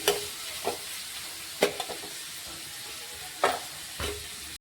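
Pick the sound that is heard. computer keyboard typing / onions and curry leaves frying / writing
onions and curry leaves frying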